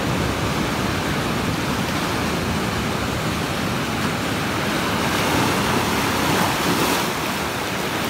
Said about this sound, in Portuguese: Mas ainda assim eu acho que tem ondas bem fortes.